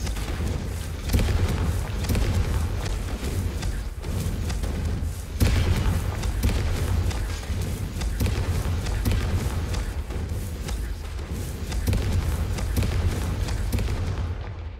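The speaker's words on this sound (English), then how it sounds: "Explosions!" Confringo spell blasts in the Hogwarts Legacy video game, a loud, dense series of booming explosions and thuds, repeated rapidly for about fifteen seconds with no talk.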